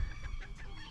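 A rooster bred from a wheaten rooster and a pumpkin hen clucks in quick, soft bursts on a small Tennessee homestead, close by but fairly quiet.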